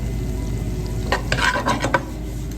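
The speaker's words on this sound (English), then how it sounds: "Next we're going to throw our shallots in here." Shallots sizzle as they hit a hot pan for an Alfredo sauce, a steady frying hiss with a few brighter crackling bursts and stirring scrapes in the middle, close and moderately loud.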